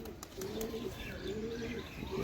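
A pigeon being handled gives a few soft, close coos over a quiet background, with faint rustling between the calls.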